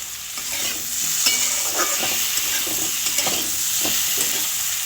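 Potatoes fry in a pan with spices and cumin powder, a loud continuous sizzle punctuated by repeated stirring scrapes.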